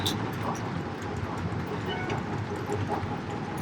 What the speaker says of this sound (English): The carpet does a good job of keeping the trains from being loud.